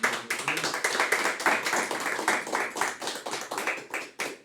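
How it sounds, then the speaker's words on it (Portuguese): A congregation at a Thursday evening church service claps steadily in praise, a dense, continuous run of hand claps close by and fairly loud, with no talk over it. "Vamos louvar a Deus com as palmas, engrandecer o nome de Deus."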